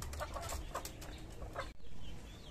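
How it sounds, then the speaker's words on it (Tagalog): Native chickens cluck steadily in a backyard flock, a busy overlapping mix of short calls, fairly close and loud, with no talk. "Tapos na tayo sa native na manok."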